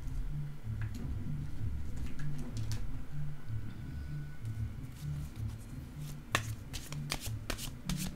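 Tarot cards are shuffled in steady rhythmic riffles and soft slaps, close and continuous, with a few sharper taps toward the end.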